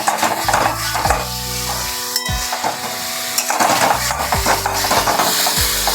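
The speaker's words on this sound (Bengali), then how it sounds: "এইভাবে আমি একটু কষবো।" Spiced brinjal sautéing in a pan, with a loud continuous sizzle broken by repeated scraping and knocking strokes of a stirring spoon against the metal.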